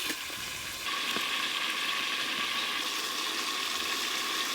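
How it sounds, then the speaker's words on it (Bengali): Malabar spinach stems frying in a covered wok with fish oil, salt and turmeric, giving a steady, bright sizzle with a few faint clicks and scrapes underneath. "লবণ, হলুদ গুঁড়ো, একটু চাপা দিয়ে ভালো করে ভেজে নেব"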